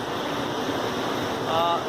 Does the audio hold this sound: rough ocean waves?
yes